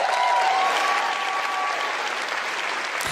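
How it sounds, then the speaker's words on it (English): A large crowd claps and applauds at a political rally, a dense, steady wash of hand claps sustained at full strength and cutting off abruptly at the end. "Can you hear how the crowd clapping?"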